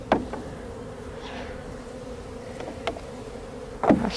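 A honeybee swarm hums steadily as it is shaken into a hive, with a dense close buzz and a few sharp knocks and thumps from the box.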